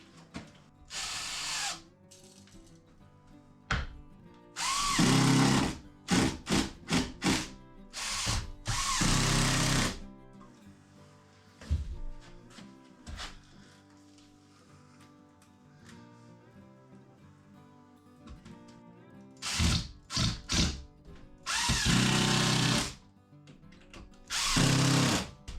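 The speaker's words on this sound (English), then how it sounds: "So I'm going to finish screwing this then to the wall" Power drill driving screws into wall sheathing while finishing a workshop, in repeated loud bursts of a few seconds each separated by quieter pauses with faint handling noise.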